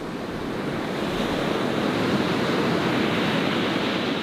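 Ocean surf rolls in a steady, loud broadband wash with no distinct breaks, wind noise mixed in, up close and without voices.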